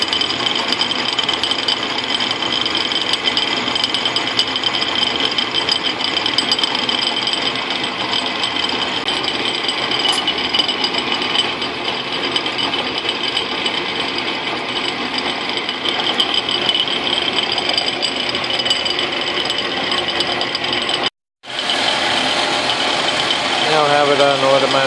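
A Logan lathe mills a nut on slow automatic feed, giving off a steady, buzzing mechanical drone with a rattling vibration that holds throughout and cuts out briefly near the end, while someone talks over it.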